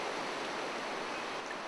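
A river stream in the Ken Lockwood Gorge rushes in a steady, dense wash of water noise, even and unbroken, with no voices.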